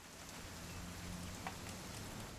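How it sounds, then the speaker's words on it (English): Steady rain falls in the video game What Remains of Edith Finch, a soft, even wash of drops that holds at a constant low level throughout with no voices. "It's gonna rain the whole weekend"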